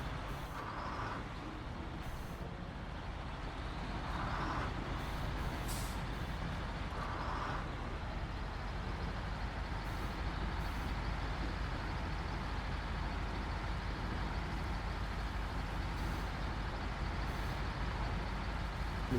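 A heavy truck engine drones steadily while towing another vehicle back to a warehouse in the SnowRunner video game, a constant low rumble with faint periodic hisses, and no talking.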